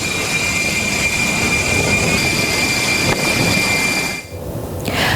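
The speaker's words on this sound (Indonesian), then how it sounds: "sebuah pesawat bergerak ke posisi dek penerbangan sebelum lepas landas" Military jet taxiing into position on an aircraft carrier flight deck before takeoff, a loud steady roar with a high whine, dipping briefly near the end.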